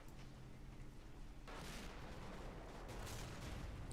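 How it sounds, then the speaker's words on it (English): Artillery shells rain down on troops in a strategy war game, with a low rumbling bombardment that swells into heavy, booming impacts partway through and keeps rolling to the end, with no speech. "I'm sure that these are about to get hit with artillery though."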